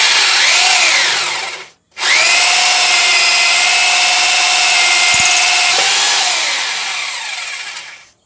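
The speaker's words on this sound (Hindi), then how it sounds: "तो मैं आपको दूसरा होल करके दिखाता हूँ।" A Foster FHD 2-26 DRE rotary drill, in plain drilling mode without hammer, bores a hole through plywood with a loud, steady whine, broken by one brief pause before it spins back up and runs on.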